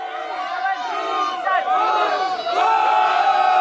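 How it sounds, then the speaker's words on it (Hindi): Guests at a sangeet celebration cheer and whoop loudly, a crowd of overlapping shouting voices rising in bursts and swelling toward the end, with little distinct clapping under the cheers. "एक बार दिल से जोरदार तालियां।"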